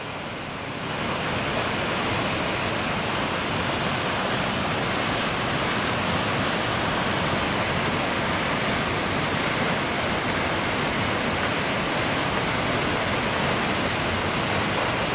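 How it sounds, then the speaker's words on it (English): Dense, continuous roar of Mill Creek Falls, a waterfall with a drop of about 100 feet or more, a steady hiss of crashing water that fills the whole scene at constant loudness. "I didn't expect to find a waterfall like this."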